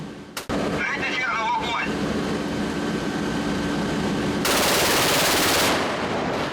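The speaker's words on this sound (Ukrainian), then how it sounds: "Артилерійська установка вражає ціль на відстані 4 кілометрів зі швидкістю 3 тисячі пострілів за хвилину." A naval artillery installation, a rapid-fire gun of about 3,000 rounds per minute used by border guards at sea, fires bursts heard as dense continuous roaring fire, loud and close, with a voice talking over it.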